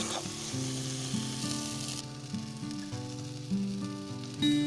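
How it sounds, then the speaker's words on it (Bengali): Cumin and coriander spice paste sizzles steadily while frying in a pan, a continuous close crackle with faint stirring and no talking. "তো মশলাটা লাল লাল করে ভাজা হয়ে গেছে,"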